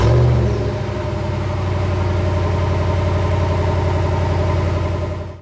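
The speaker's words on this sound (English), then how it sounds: "drivers still have to insert and twist a key to start the Ram 1500 Classic" A 2021 Ram 1500 Classic pickup truck started with a twist of the key, a brief crank rising into a loud, steady idle rumble heard close for several seconds before cutting off.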